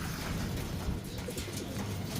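Pigeons coo in a loft, soft repeated throaty coos mixed with a dense low rustling background, fairly close and continuous without speech.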